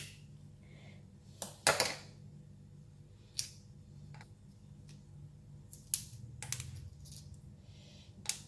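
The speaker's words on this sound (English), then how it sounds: "Use the back of the scissors, just like that, and then just crack open." Sharp, scattered cracks and snips as the back of scissors breaks ginkgo nut shells, close by and irregularly spaced over a quiet background.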